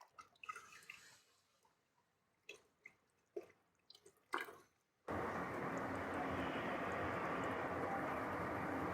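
Coolant drips from the drain of a Yamaha Super Tenere motorcycle during a coolant flush: scattered faint drips and splashes, then a steady louder pour of liquid fills the rest.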